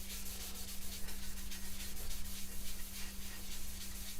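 Abrasive Yorkshire grit paste rubbed by hand onto a turned chestnut piece, a steady, close scratchy friction that runs continuously over a constant low machine hum, likely the lathe spinning.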